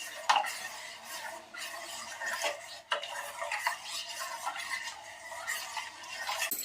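Powder warming in a pan gets stirred without a break, a continuous scraping and light rasping of a utensil against the pan with small clinks, heard close and steady.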